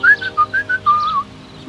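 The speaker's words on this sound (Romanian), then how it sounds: "l-a văzut fluierând un șuier ciudat" A man whistles a strange, warbling tune, a quick series of short, close, clear notes followed by a longer sliding one, with nothing else heard.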